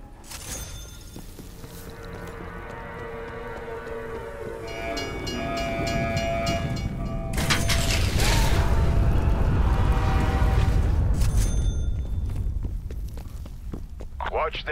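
A train rolls along the tracks in a video game, a low rumbling roar that builds and swells as it passes, with a long horn-like tone and clanking, and a voice speaking over it.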